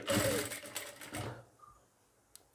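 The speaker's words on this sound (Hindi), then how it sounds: "बाहर की तरफ सिलाई लगाएंगे" A sewing machine stitches lace onto a blouse in a quick, dense buzzing run of about a second and a half, then stops and leaves near silence with a faint tick.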